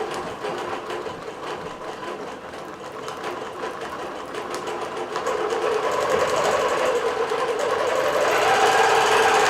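A computerized quilting machine stitches along a quilt border, a steady fast mechanical whir and clatter that grows louder and denser in the second half, heard close with no talk.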